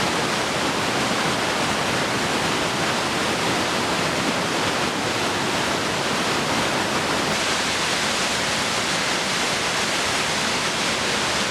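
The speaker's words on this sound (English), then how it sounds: "what a gorgeous hike and what a gorgeous waterfall" Waterfall Canyon's waterfall near Ogden, Utah, roars loud and close, a dense, constant wash of falling water with no talking over it.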